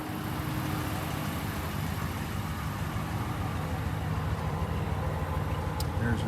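A 2014 Ram 1500 Crew Cab Tradesman pickup idling, a steady, smooth low engine rumble that stays constant throughout, close and even.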